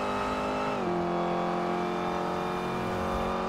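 Modded car engine in the GTA 5 game, a steady sustained engine tone that dips in pitch once early, then holds a smooth even note, with a faint tyre or road whine underneath.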